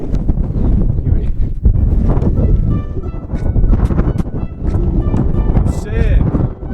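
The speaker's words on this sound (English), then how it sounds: "so windy up here" Strong wind buffets the microphone on the Pen y Fan mountain summit, a loud, constant low roar with gusty swells throughout, while a person talks over it.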